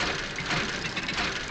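Dredging in the fishing video game Dredge produces a continuous rough, grinding churn with a rumbling mechanical texture, steady and fairly loud for its short span.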